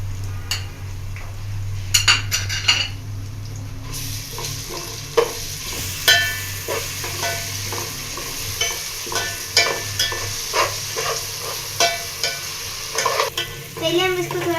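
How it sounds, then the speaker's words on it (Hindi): Spice paste stirred and fried in a pot for matar pulao, with a low sizzle under regular, fairly loud scrapes and knocks of a spoon against the pot, repeated about once a second. "पहले हम इसको थोड़ा सा भूनेंगे"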